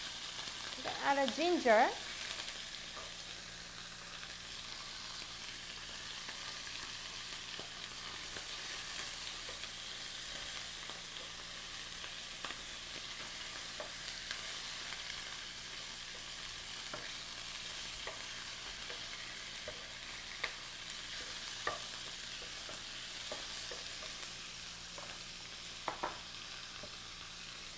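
Ingredients stir-fried for ankake yakisoba, with possible pork, make a steady, fairly quiet sizzle across the whole stretch, broken by occasional light clicks and scrapes of stirring. A brief spoken remark comes near the start.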